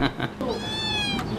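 A pet cat meows indoors, several short cries at first and then one long drawn-out wail, fairly close and clear, with a voice briefly present in the background.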